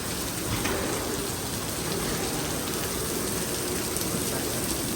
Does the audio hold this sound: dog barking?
no